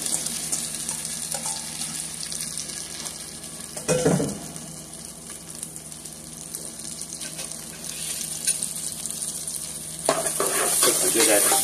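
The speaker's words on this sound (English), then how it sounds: "going to use my corn that I cut down off the cob, and I'm going to just add that to the pan there" Corn kernels cut off the cob are dropped into a hot pan and sizzle steadily in a close, continuous frying hiss, with a brief stirring clatter near the start and another swell toward the end.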